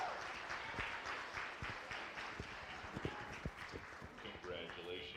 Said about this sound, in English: Give both these exhibitors a big round of applause.